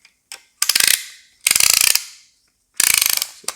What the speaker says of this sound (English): Kind of awkwardly grip it with one hand, and I'll just ratchet it down.